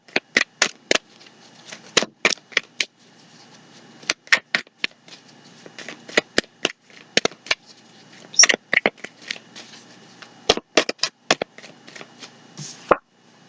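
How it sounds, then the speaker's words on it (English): A deck of tarot cards is shuffled by hand in repeated bursts of crisp riffling and snapping, close and clear, with short pauses between rounds and no talking. "We're going to do a couple more shuffles."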